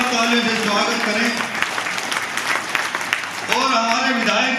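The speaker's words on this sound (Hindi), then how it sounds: "जोरदार तालियों से स्वागत करें।" A crowd at an ashram kirtan applauds warmly to welcome a guest being honoured with a sash, the clapping sustained and fairly loud while a voice speaks or sings over it throughout.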